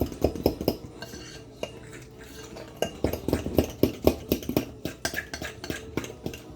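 Bisquick biscuit dough being stirred in a bowl, the utensil knocking and scraping against the sides in an uneven, repeated rhythm of close clinks and thuds, with no talking.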